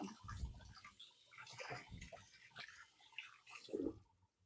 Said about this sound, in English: So I'm going to give my hands a quick wash